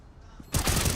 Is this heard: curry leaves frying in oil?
no